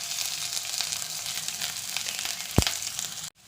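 Crushed ginger and garlic hit hot oil with whole spices such as cloves and coriander seeds, giving a steady, close, dense sizzle with one sharp knock midway before the sound cuts off abruptly.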